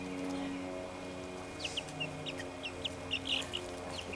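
Young chicks clucking and peeping outdoors on a farm, several short, high calls scattered over a steady low background hum, fairly faint and with no talking.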